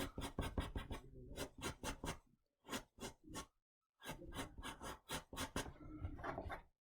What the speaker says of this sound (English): using the eraser to bring out the hairs where you want it lighter